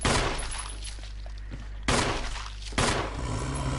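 Gunfire in Resident Evil Remake, with Chris Redfield shooting at zombies: three sharp, loud shots spaced about a second apart, each followed by a ringing decay, with no speech.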